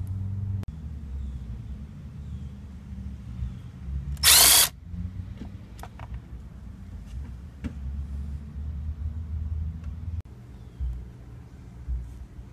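A power tool gives a short, loud burst of roughly half a second while backing out the steering wheel airbag screws on a 2000 Honda CR-V, with quiet workshop rumble and a few small clicks around it.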